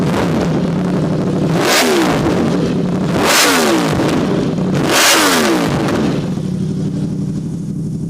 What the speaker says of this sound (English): we give it a good rev